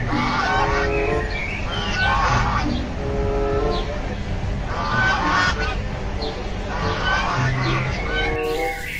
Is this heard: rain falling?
no